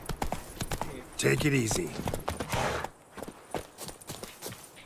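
Roach, the horse in The Witcher 3 video game, clops along at a steady pace while someone speaks briefly over the hoofbeats.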